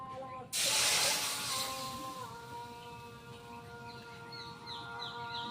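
Milk poured into a hot pan of lightly fried semolina, a sudden loud burst of hissing sizzle that gradually settles into a softer bubbling simmer with faint high squeaks.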